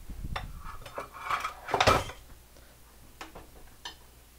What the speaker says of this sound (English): I'm gonna serve this out